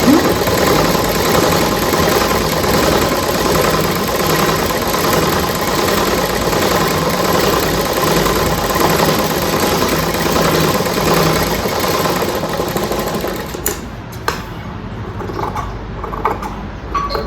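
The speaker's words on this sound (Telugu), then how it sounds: "ఇప్పుడు లైనింగ్ ఉన్న మనం కుట్టు వేసుకున్నాము." A sewing machine stitches a lined blouse sleeve, running as a steady, close mechanical whir for about thirteen seconds before stopping abruptly, after which only faint scattered handling noises remain. Nobody speaks.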